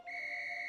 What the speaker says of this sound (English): you get a toy, and it's called Katie's Stamp Whistle